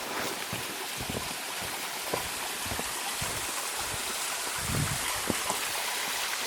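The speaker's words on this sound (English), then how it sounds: "we have this pretty little waterfall." A small, weakly flowing waterfall on a Tasmanian bushwalk near Tumbling Creek gives a soft, continuous rush of water, with a few faint footstep-like knocks scattered through it.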